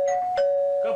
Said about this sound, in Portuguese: Campainha! Campainha! Campainha!